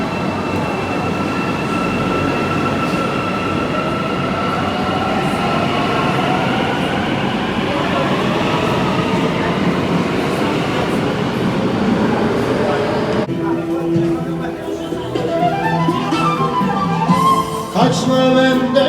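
Rumbling ride on a train in Istanbul, with steady broadband rail noise, rhythmic wheel-on-track clatter and occasional faint squeals, loud and continuous throughout, with a change in the sound of the car near the end.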